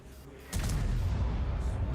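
A single heavy T110E3 tank cannon blast in a video game hits at once and leaves a long, loud rumbling roar that fills the rest of the moment.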